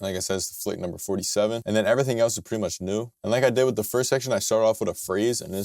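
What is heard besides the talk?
No everyday noises stand out.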